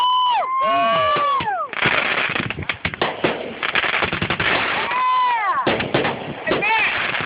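Fireworks explode near a crowd, with whistling rockets rising and falling, a dense burst of cracking, popping bangs, then more whistles, loud and close, with people's voices mixed in.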